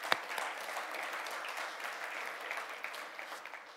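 Conference audience at a Google Developer Groups event breaks into applause, a sustained even patter of many hands clapping at moderate distance, opening with one sharp louder clap.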